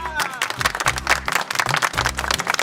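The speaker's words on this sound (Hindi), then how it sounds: "तालियां!" Applause in a comedy drama scene after a mock election promise: bursts of crowd clapping, loud and near, interleaved with low voices talking underneath and a couple of brief drops in the clapping.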